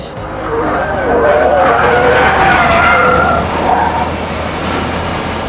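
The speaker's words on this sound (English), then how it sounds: "their great German rivals Mercedes came out with the E55, the ultimate E-Class created by their tuning specialists AMG" A Mercedes E55 AMG with a naturally aspirated 5.4-litre V8 drives hard and skids. A loud, continuous tire squeal rises and wavers over the engine roar for several seconds.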